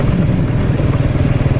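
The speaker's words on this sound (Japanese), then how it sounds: "でかいツアーラーのねバイクがねギャンギャン走ってますね。" Large touring motorcycles, such as Ducati and BMW, rumble loudly and continuously nearby in a street in Laos, a deep throaty roar with no talking.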